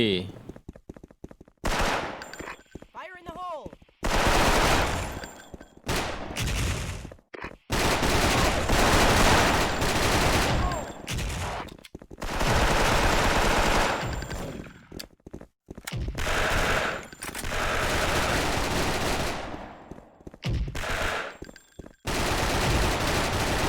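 Gunfire in the SF Mobile FPS game during a team deathmatch, loud rapid automatic bursts in repeated volleys separated by short pauses, with a player talking at times.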